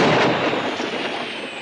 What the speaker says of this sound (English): Blow those mortars apart, Tanner.